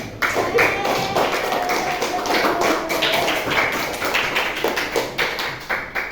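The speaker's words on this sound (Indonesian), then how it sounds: "Tepuk tangan" A school class claps hands in a classroom, a busy run of sharp overlapping claps and taps at close range, sustained and fairly loud throughout.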